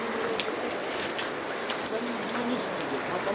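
Heavy rain pours steadily through the whole stretch, a dense loud hiss of drops with no talking, during a night on a road trip from Karachi to Batakundi in the Naran valley.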